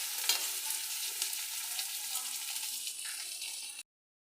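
Fish frying in hot oil in a wok, a loud continuous hiss and crackle of sizzling that holds steady for several seconds and then cuts off abruptly.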